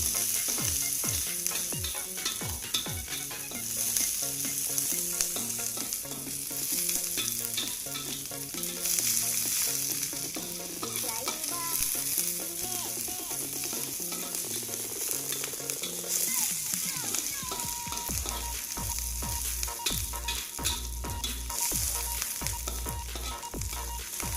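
Vegetables sizzle in hot oil for fried rice, a steady frying hiss under rhythmic scraping and clattering stir strokes. The tone shifts partway through as the stirring grows more regular.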